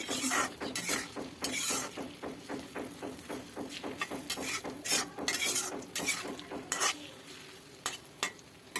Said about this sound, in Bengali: আমটা দিয়ে দিচ্ছি আমি যেভাবে দিই আর কি সেটাই দেখাচ্ছি সেইভাবে একটু নাড়াচাড়া করে নিচ্ছি